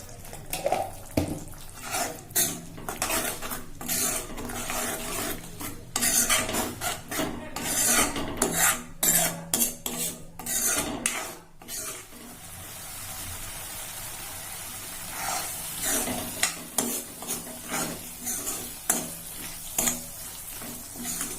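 Mint leaves and green chillies fry in a pan under repeated rasping, scraping stirs. The strokes come in an uneven rhythm, loud and close, over a continuous sizzle.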